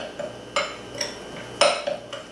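Lemon, mint and ginger being mixed for salmon in a bowl, with a few sharp utensil clinks and scrapes against the dish at irregular intervals, close and fairly loud over a quiet kitchen background.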